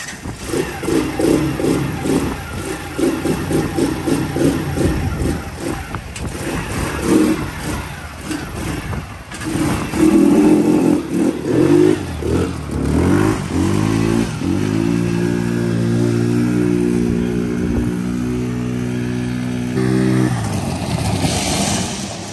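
A Can-Am DS90X youth ATV with the choke off runs its small engine up and down in repeated revs, then holds a steady climbing drone before dropping off, loud and close with no talk.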